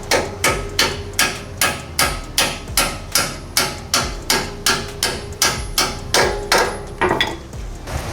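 Impact wrench or hammering on the bottom nut of an air ride strut during a swap to coilovers, about sixteen loud evenly spaced metallic blows close by, with no talking.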